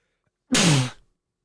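A single sharp sneeze bursts out close by, loud and sudden, then fades quickly into silence.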